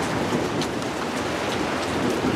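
Steady rain pattering on a back step during a thunderstorm, a dense continuous wash of drops close by with low rumbling thunder underneath, no voices.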